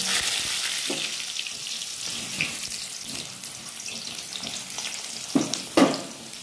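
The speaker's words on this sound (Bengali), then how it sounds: "এবার একটু ভেজে নেব" Food sizzles steadily as it fries in a pan on a gas stove, a continuous hiss with a few louder sputters and clatters near the end, with no talking.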